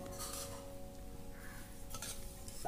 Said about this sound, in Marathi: फक्त 1 ते 2 मिनिटांसाठी आपल्याला ही खसखस भाजून घ्यायची आहे